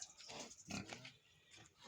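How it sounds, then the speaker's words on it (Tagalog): A pig in a farm pen grunts and oinks in several short bursts, faint and somewhat distant. "Laki ng baboy."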